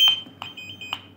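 A BSide FWT11 LAN cable tester beeps on finding the right cable: three short, evenly spaced electronic beeps, close and clear over a faint background hum.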